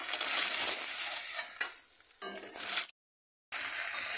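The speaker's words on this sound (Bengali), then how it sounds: "নিয়ে বাকি মাছগুলো আমি ভেজে নেব।" Fish frying in hot oil for a Bengali fish curry, a loud close hiss and crackle that fades, gives way to a few scrapes and clatters, cuts to silence, then resumes.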